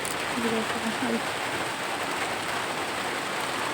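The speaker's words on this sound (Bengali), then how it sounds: "বৃষ্টি শুরু হয়ে গেল।" Rain begins to fall as a steady, close, broadband hiss that holds evenly throughout, with a faint voice-like tone briefly near the start.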